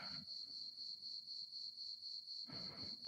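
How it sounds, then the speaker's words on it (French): Cicadas shrilling in Provence, a steady, high, pulsing drone that carries on without a break, with brief bursts of low rustling noise at the start and near the end. "Le son des cigales."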